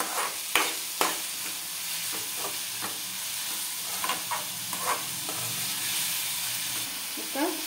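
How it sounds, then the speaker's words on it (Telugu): Tomato, onion, green chilli, cumin and curry leaves frying over medium flame, a faint steady sizzle with scattered light clicks and scrapes of stirring, close and quiet, no voices. "టమాటా, ఉల్లిపాయ, పచ్చిమిర్చి, జీలకర్ర, కరివేపాకు మొత్తం అన్నింటినీ కొంచెం ఫ్రై చేసుకుందాం."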